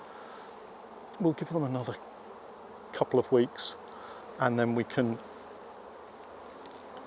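Honey bees hum steadily around an open brood box of a combined nucleus colony being inspected, a low continuous buzz running beneath someone speaking close by.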